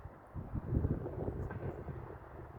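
An SMK train rolls through Szczecin Zdroje station, a low, rumbling passage with rising and falling intensity, heard from the platform with some wind noise and no talking.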